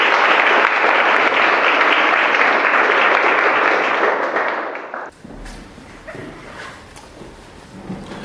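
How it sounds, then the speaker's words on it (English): Wedding guests applauding at a ceremony, loud dense clapping that carries for about five seconds, then cuts abruptly to quiet room ambience with faint shuffling. "Give David a round of applause."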